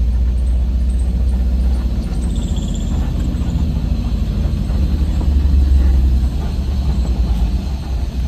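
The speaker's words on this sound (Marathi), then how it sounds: "टेम्पो पण आलाय. टेम्पो घेऊन जातो आतमध्ये." A tempo van drives in with a continuous low engine rumble that holds steady and swells slightly near the end, loud and close, with a faint higher whine passing briefly.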